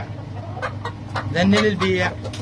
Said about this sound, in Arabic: هذا الديك وهاي الدجاجه الرماديه